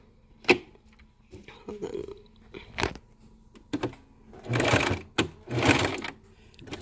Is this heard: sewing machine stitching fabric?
yes